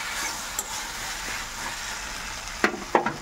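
Tomatoes frying in a pan for a Murshidabad-style vegetarian sour dish with potatoes, a soft steady sizzle at close range with a couple of brief stirring clatters near the end, no voices.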